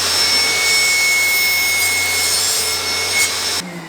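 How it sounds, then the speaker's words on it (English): Table saw with a crosscut sled cutting wood for a small planter, giving a loud, continuous close whine and rush that cuts off abruptly near the end, with no speech. "I'm going to use my crosscut sled to do that because I have a square edge here and I can square it against the blade"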